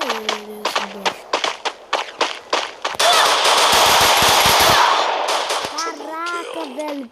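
Video game gunfire: a burst of single sharp shots, then a long loud continuous automatic barrage lasting a couple of seconds, trailing into a few more shots, with a voice heard faintly at moments.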